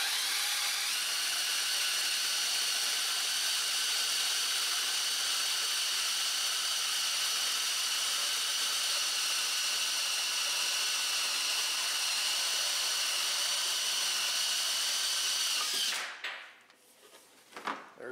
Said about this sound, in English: millimeter supplied hole saw, and you're going to drill through your marks